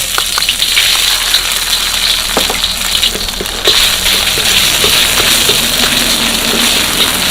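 Curry paste being stir-fried over low heat in a pan for a spicy catfish dish gives a steady, loud, continuous sizzle with no pauses.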